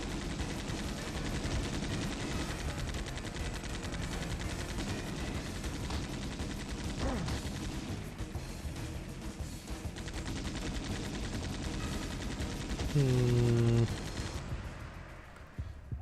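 Gunfire in the video game XIII: sustained rapid shooting bursts fill the soundscape for most of the stretch, dense and loud, ending with a brief tonal effect before fading.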